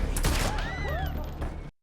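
A burst of sharp gunfire cracks out amid chaotic noise and shouting voices, loud and close, with a few scattered shots over about two seconds.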